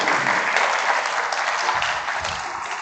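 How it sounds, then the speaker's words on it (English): An audience at a lunchtime history lecture applauds for a few seconds in steady, dense clapping that fades slightly toward the end. "Let's give Jeffrey another round of applause."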